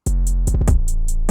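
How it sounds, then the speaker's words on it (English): Three 808 bass hits fire back to back in a quick triplet burst within a trap beat, with booming sub tones under regular crisp hi-hat ticks that keep steady time. "you put 3 808s back to back in a short period of time"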